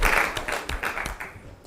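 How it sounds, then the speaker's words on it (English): Brief round of applause from a seated audience at a talk, a burst of close claps that thins out within a couple of seconds, heard on its own. "Round of applause."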